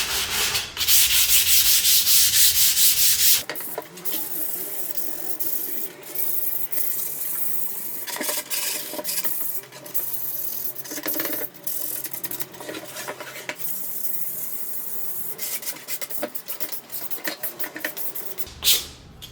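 Continuous scratchy rubbing of sandpaper against a surface, close up, with steady strokes that pause and resume irregularly and no voices.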